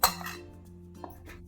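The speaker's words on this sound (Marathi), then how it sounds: "गॅसवर पॅन ठेवलंय." A metal pan is set down on a gas stove burner in a home kitchen while making khava (mawa) rotis: one sharp clank with a brief metallic ring, then a lighter knock about a second later. Nobody speaks.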